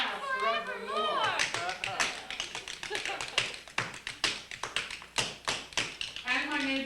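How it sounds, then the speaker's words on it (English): Rhythmic tap-dance shoe strikes on a floor, a quick syncopated run of sharp clicks heard close, alongside singing at the start and end of the passage. "And my neighbor never napping, still is tapping, still is tapping."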